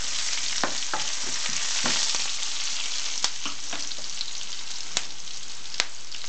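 Onions fry in a pan with a steady dense sizzle, interrupted by scattered sharp clicks and taps of a utensil stirring against the pan.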